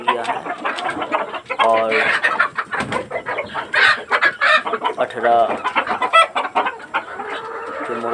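A flock of about 100 Sonali chickens on a small layer farm clucks and squawks steadily and close by, while someone talks over the noise.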